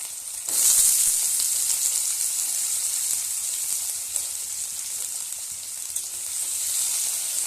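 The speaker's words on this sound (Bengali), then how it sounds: "আলুগুলি একটু আমি লাল লাল করে ভেজে নেবো" Potatoes frying in hot oil with cumin seeds and panch phoron, a steady loud sizzle that surges in about half a second in and then holds evenly throughout, with no voices.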